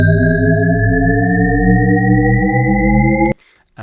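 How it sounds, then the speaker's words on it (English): A synthesized Shepard tone plays as stacked tones that glide steadily upward for about three seconds, creating the illusion of an endlessly rising pitch. It stops abruptly, leaving a brief faint tail. "So I've always been intrigued by something called the shepherd's tone,"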